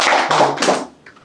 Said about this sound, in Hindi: एक बार जोरदार तालियां हो जाए हमारे स्टूडेंट के लिए